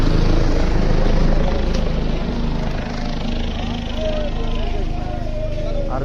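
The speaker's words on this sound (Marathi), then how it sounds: "ज्यांच्याकडे जास्त पैसे ते हेलिकॉप्टरने पण येऊ शकता" A helicopter flies over the Kedarnath pilgrimage site, a loud continuous rotor and engine drone running throughout under nearby voices and crowd chatter.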